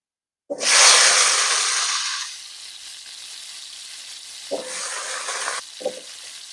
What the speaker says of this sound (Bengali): সরিষার তেল দেবো আলু ভেজে নেব